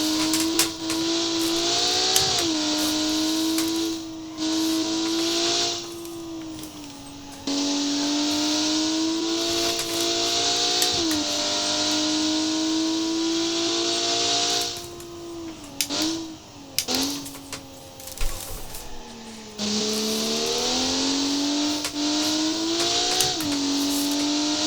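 In the BeamNG driving game, the engine of an Automation-designed Crown Model 8 car revs hard and steadily, pitch climbing through gears with short dips at shifts and brief off-throttle gaps, loud and continuous for about twenty-five seconds.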